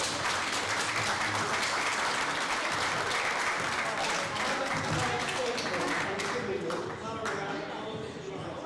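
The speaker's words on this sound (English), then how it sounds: "So, give a round of applause for these people here." An audience at South Hampshire College Group's Creative and Digital Industries Showcase 2024 gives sustained, loud applause that fills the hall, with some voices mixed in beneath the clapping.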